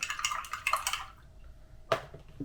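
A spoon scrapes and clinks quickly around a bowl while stirring in salt, then a pause, followed by a couple more sharp clinks.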